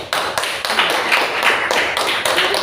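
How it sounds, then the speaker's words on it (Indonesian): Students in a Pancasila education classroom clapping for a presenting group, a few hands producing sharp, uneven claps close by with slight pulsing bursts. "Tepuk tangan untuk kelompok"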